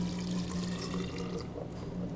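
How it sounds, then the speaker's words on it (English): Liquid pours steadily into a 1 liter graduated cylinder in a chemistry lab, a continuous close splashing, gurgling rush with a low hum beneath it. "We're just going to pour it into our 1 liter graduated cylinder."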